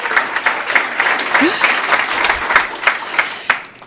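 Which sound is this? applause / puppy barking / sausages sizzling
applause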